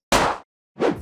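Two punchy crunching hits, layered Minecraft powdered snow and dripleaf breaking sounds used like a snare, separated by a short gap.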